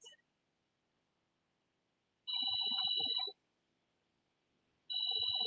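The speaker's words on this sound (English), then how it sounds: "Oh, that's my mother's phone." A mobile phone ringtone plays in two separate bursts of a bright electronic melody, each about a second long with a pause between, clear and close in an otherwise quiet room.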